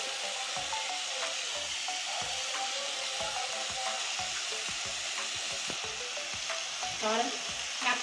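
Mixed vegetables with turmeric sizzle steadily in a hot pan while being stirred. Repeated scraping strokes of a spoon fall in a loose rhythm over the constant frying hiss, close and clear, with no voices.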